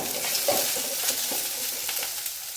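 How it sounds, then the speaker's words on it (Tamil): Onions sauté in a pan for a tomato rice dish, a soft, steady sizzle with occasional stirring clicks and scrapes close by, no talking over it. "வெங்காயம் நல்லா வதங்கட்டும்"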